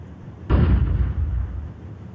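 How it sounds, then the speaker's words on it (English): Flashbang grenade detonating in Counter-Strike 2, a single sharp burst followed by a deep rumbling roar that fades over about a second and a half, close and loud with no talking. "Flashbang!"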